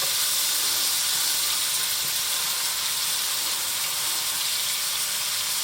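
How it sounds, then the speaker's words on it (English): Shrimp sizzle in a pan for Spanish tapas, a dense, even hiss of frying that holds steady and loud throughout with no talk. "we're just going to let that cook in there with those other babies 3 or 4 minutes until the shrimp turns opaque"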